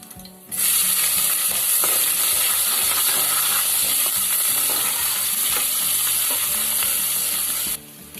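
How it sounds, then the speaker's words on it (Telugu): Onions hit hot oil with already-fried spices in a pan for tomato rice, bursting into a loud, continuous close-up sizzle that holds steady for several seconds before cutting off abruptly. "మసాలాలు వేగినాయి, ఉల్లిపాయలు వేసుకుందాం."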